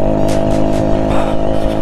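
Yamaha RX two-stroke motorcycle engine running steadily at close range, a loud continuous idle-to-mid drone with a few brief rises in revs throughout.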